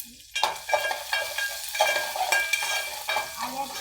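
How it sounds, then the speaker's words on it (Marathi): Crushed ginger, curry leaves, cumin, mustard seeds and dried red chilli sizzle in hot oil during tempering, with a steady fry broken by repeated stirring scrapes and spatters, close and alone. "आलं टाकलं ठेचलेलं कढीपत्ता आलं जिरं मोहरी लाल मिरची"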